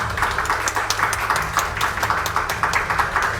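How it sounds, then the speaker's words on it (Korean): A ceremony audience applauds at the 10th Information Security Day commemoration, giving brisk, even clapping from a modest crowd that keeps a steady rhythm for a few seconds without any voices. "모든 분들께 여러분 따뜻한 축하의 박수 부탁드리겠습니다."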